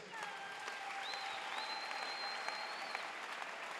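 A church congregation applauding, a dense steady wash of clapping from many hands that fills the room throughout, with a sustained high tone running over it.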